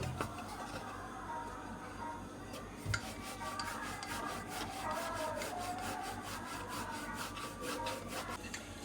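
A wooden rolling pin works a flour-dusted ball of dough into a round roti for a pizza paratha, making steady, close rhythmic rubbing and scraping strokes on the board with no voices.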